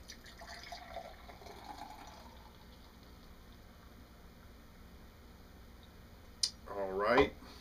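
Clear Creek Ice, a golden beer, pours quickly into a glass near the end, a short gurgling fill rising in pitch, after a long quiet stretch with faint talk at the start.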